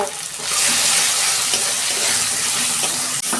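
Ground cumin, chili powder and turmeric masala frying in a pan, a loud close sizzle with steady stirring, continuous and without talk.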